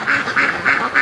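Muscovy ducks at a lake give four quick, evenly spaced quacks within a second, close and clear.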